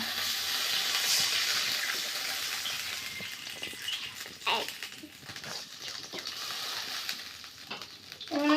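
Water poured into a pan of fried spice masala for a fish curry with radish, a steady hissing sizzle and bubbling with a few stirring scrapes, close and moderately loud with no talk.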